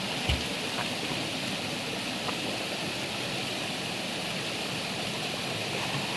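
A mountain stream in Mansehra, Pakistan, rushes steadily in a continuous, dense flow, like a fast stream, loud and close with no pauses.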